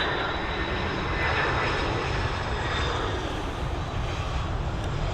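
Airliner arriving at Dublin Airport on a flight from Dusseldorf, a loud sustained jet engine roar with broad rushing noise, steady and close throughout without any speech.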